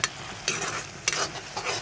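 Fish frying and being stirred in a pan, a soft sizzle beneath a few distinct scraping stirs of the spatula at irregular intervals, close and moderately quiet.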